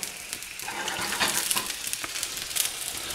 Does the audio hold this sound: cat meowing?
no